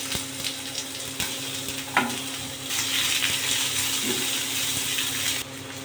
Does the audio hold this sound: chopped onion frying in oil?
yes